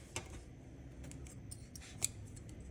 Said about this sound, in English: make a knot with your thread to make sure that it doesn't unravel or come apart, and then cut to the thread